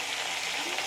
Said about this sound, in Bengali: আগে আলুগুলো ভেজে নিই, তারপর জিরে তেজপাতা ফোড়ন দেবো।